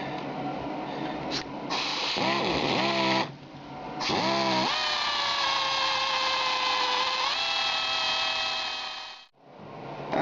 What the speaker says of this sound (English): we're going to drill this out